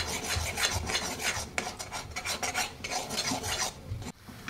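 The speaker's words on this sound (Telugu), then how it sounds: "ఇంకా కాలేదు, కలుపుతూనే ఉండాలి, అస్సలు ఆపొద్దు. దీంట్లో కొద్దిగా కొబ్బరి పౌడర్ వేసుకోవాలి. మనం కలుపుతున్న కొద్దీ అది గట్టి పడుతూ ఉంటుంది." A thickening roasted-gram laddu mixture with coconut powder is stirred steadily in a pan, giving a continuous close scraping and rasping with uneven strokes and no talk.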